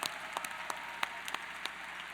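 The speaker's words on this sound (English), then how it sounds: "let's have a big round of applause for all the volunteers here at First" Applause from a crowd at a robotics competition opening ceremony, steady broadband clapping with a few sharper individual claps standing out, fairly distant and continuous throughout.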